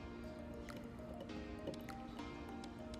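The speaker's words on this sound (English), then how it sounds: "Okay, I'm gonna pour it in." Faint liquid drips and soft squishing as an oily hair product mixture is poured into a container, quiet and close with a few irregular splashes.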